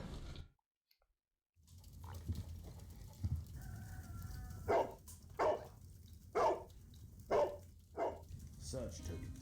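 Toby the dog in Sherlock Holmes: The Devil's Daughter barks in a run of about six sharp, evenly spaced woofs, close and loud over a low game background hum.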